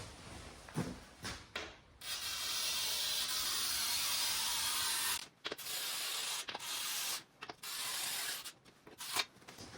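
Glass cutter scoring a clear pane of glass during demolition-day window removal: a steady, close, rasping hiss with several short breaks as the wheel is drawn across the glass in separate strokes.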